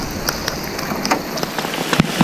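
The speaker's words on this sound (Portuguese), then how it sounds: "É a chuva, papai." Rain falling on a fishing boat on the lake at Balbina, a steady dense patter of drops on the surface with scattered louder taps, close and continuous.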